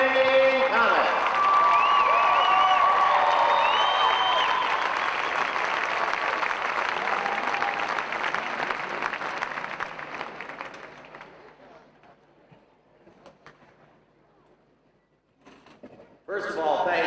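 Large hockey arena crowd at a Fort Wayne Komets championship event bursts into loud sustained applause and cheering, gradually fading over several seconds to near quiet before talk resumes.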